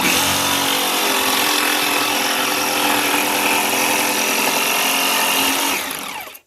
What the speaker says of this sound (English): I'm going to lift out my jigsaw. We're going to place it back in the hole, and we're going to go back to the corner.